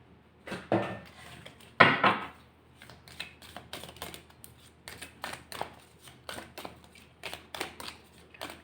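Tarot cards are drawn and handled from a deck, giving a few soft rustles and then quick, light flicks and taps in an irregular patter, close and quiet.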